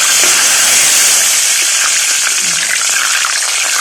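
Fish deep-frying in hot oil at home, a loud, steady close-up sizzle with crackling spatters of oil popping throughout.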